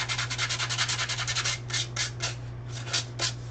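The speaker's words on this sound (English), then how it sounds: "using 100 grit sandpaper to sand away any unhappy areas" Dried paper mache on a headdress is sanded with 100 grit sandpaper, giving close, steady rhythmic rasping strokes, quick and regular at first, then slower separate passes, over a low constant hum.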